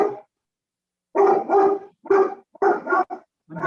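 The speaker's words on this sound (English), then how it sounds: "Sorry, it's my dog barking." A dog barks in short bursts, several loud close barks in quick succession, heard alone without talk.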